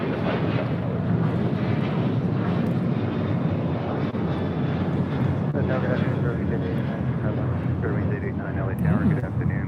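A Boeing 737-800 jet roars steadily down the runway on takeoff at LAX, a loud sustained engine rumble and whine heard over wind, with radio or voices faintly underneath.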